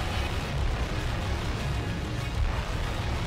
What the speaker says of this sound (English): Here we go. Explosions again.